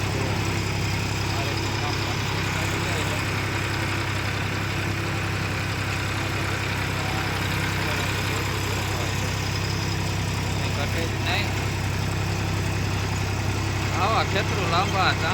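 A tractor engine runs in a steady low rumble throughout, with people talking over it.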